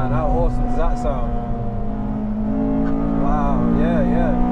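Engine of a rare FD2 Honda Civic Type R revs in bursts, a steady idle hum with rising whines, while people talk excitedly over it.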